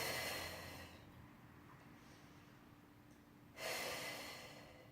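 Deep breathing during a Pilates mat exercise for low back relief: a close, soft breath at the start, a long quiet stretch of held breath, then another audible airy breath near the end.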